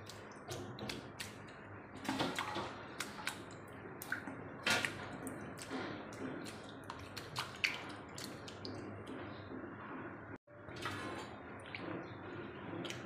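A bunch of fenugreek greens being swished and rinsed in a vessel of muddy water, with steady splashing, dripping and wet squelches close by for the whole stretch, broken by one brief silent gap near the end.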